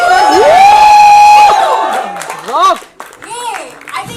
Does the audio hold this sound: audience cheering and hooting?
yes